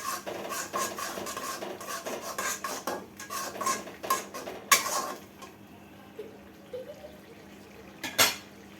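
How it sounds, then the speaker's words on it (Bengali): A spoon stirring chili, coriander and cumin powder through a fish curry pan with tomato and eggplant, giving close metallic scrapes and clinks in an uneven rhythm, busy at first and then sparser, with a couple of sharp knocks. "সবগুলো উপকরণ দিয়ে আমি একটু নাড়াচাড়া করে নিব"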